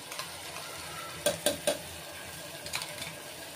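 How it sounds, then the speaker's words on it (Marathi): Ground garlic-ginger paste with curry leaves and coriander stirred into hot oil in a pan, three sharp scraping clinks of a spoon against metal over a faint steady sizzle, with no talk. "याच्यामध्ये जो आपण वाटण केलेलं आहे लसूण वगैरे अद्रकाचं, कढीपत्ता, कोथिंबीरचं, ते घालून घेते."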